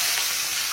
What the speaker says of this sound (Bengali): মাছ ভাজা বসিয়ে দিচ্ছি,